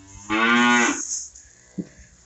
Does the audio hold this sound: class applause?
no